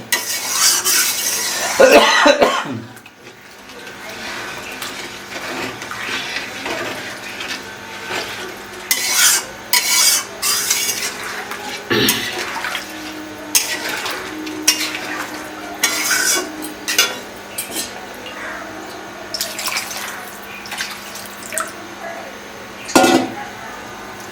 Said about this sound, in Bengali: এখন একটু নাড়াচাড়া দেওয়া হবে